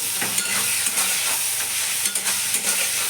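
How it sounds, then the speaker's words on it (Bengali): Shrimp and potatoes sizzle and crackle in a hot pan as they are stirred, with occasional scraping bursts from the spoon. "আলু চিংড়ি মাছ ভালো করে কষিয়ে নিয়ে"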